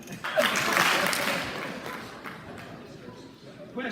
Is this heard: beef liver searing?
no